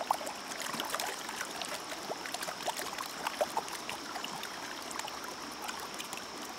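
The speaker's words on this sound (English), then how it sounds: "We're going to get it down in the water. We're going to shake it back and forth, stratify it." A gold pan is shaken back and forth in a stream while panning for chunky gold, with a steady rush of flowing water and soft sloshing throughout, close and moderately loud, with no talking.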